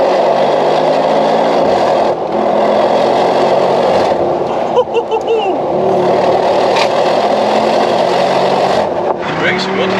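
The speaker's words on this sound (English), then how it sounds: "with the exhaust being on the side as well, makes it sound phenomenal" A Mercedes G63 AMG SUV engine droning loudly up close, with a brief rev and burble from its side exhaust midway, while a voice talks over it.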